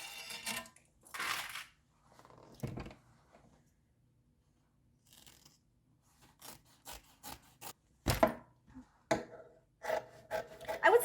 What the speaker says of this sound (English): Let's go ahead and trim down our seam allowance and see how we're looking.